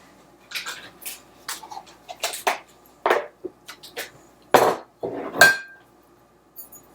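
A spoon stirs batter into melted butter in a pan, making irregular metallic clanks and scrapes against the pan that come in uneven bursts with short pauses between them.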